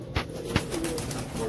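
A Zard Amritsari pigeon coos softly amid other bird sounds, low repeated notes with a few sharper chirps.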